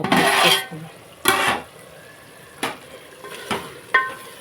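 Prawn biryani masala being stirred and fried in oil in a pot, with a long scraping stir followed by several shorter sizzling strokes and clinks, close and fairly loud with no talking.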